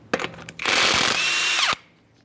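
An impact driver spins off 21mm lug nuts from a 2015-2020 Ford F-150 front wheel, with a short whirr, then a sustained loud high whine of about a second that ends abruptly.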